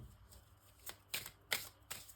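Tarot cards being shuffled by hand, a soft papery riffle with several brief flicking bursts against a faint background, quiet and close, no talk.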